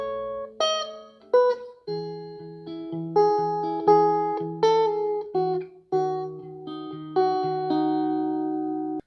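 Two bars of the bridge of a song on guitar: clean, ringing chords struck one after another, each left to sustain and decay, played close and alone with a touch of effects.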